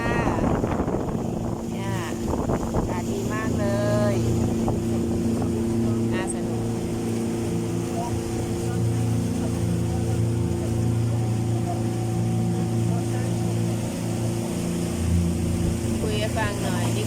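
A small motorboat on a canal tour in Holland, its engine a steady low drone with wind noise throughout, close and continuous, while people talk over it at the start.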